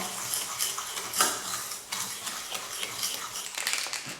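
Egg yolks are rubbed with sugar in a bowl, a close scraping and clinking of a utensil against the bowl in uneven strokes, with no talking.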